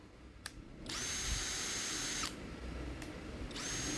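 A DCA ADJZ1203E cordless brushless drill runs in close, steady whirring bursts with short stops between them, loud and alone with no talk.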